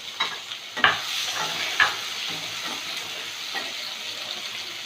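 Three large chopped onions hit hot oil in a pan for a fish dish and sizzle softly. Sharp scrapes from the stirring spoon cut through at intervals, with the loudest strokes near the start.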